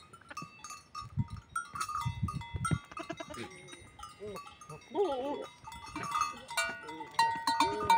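Farm goats bleat repeatedly in wavering calls, some close and loud, with a cowbell-like clank and other livestock noises around them in a rural yard.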